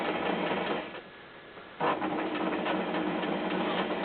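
A sewing machine runs steadily while stitching fabric for an Easter bag, its even mechanical whirr fairly loud and close, easing off briefly before picking up again.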